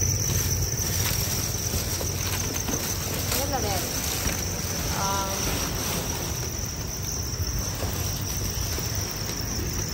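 Farmed crickets raised for sale chirp in a dense, continuous high trill close by, with a person talking briefly over them.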